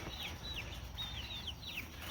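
Several chickens cluck in a coop on fresh grass, a series of short rising-falling calls repeating steadily over a constant farmyard hum, no voices.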